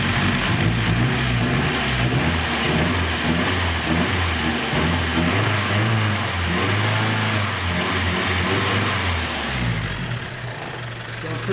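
Datsun 510 with a swapped KA24DET turbo engine running under the hood, revving up and down repeatedly from idle, loud and close, with rising and falling engine tone throughout.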